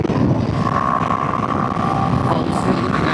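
Kawasaki Ninja 500 motorcycle pulling hard in fifth gear on a ramp near water, with a steady engine drone under heavy wind rush from riding at speed, no talking.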